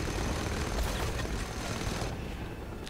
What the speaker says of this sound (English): oh shit, machine guns